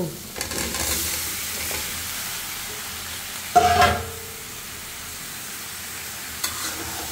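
A brinjal and tilapia curry with cooked-down spice paste is stirred in a hot pan. A continuous sizzle runs throughout, with a louder spoon-scrape burst near the middle and a smaller one near the end, close by and with no talking.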